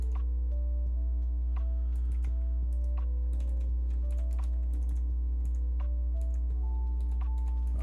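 Steady typing on a computer keyboard while writing OpenGL shader code, with quick irregular clicks of keys close by over a constant low hum, no speech.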